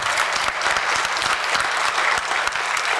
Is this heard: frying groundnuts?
no